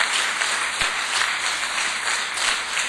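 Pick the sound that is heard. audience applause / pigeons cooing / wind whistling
audience applause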